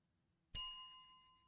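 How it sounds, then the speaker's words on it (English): One bright strike of a service bell rings out clearly and alone, with a sustained metallic tone that fades slowly over about a second. "ring bell for service"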